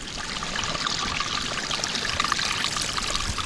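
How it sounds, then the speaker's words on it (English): A forest stream trickles and burbles steadily through its bed, a continuous, close, even wash of running water with no voices. "I hear the trickle of water."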